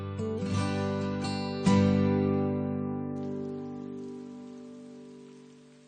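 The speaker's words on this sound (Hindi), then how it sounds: "और बारिश भी हो रही है।" Steady rain falls throughout, a soft continuous hiss under a sustained tonal music-like drone that slowly fades.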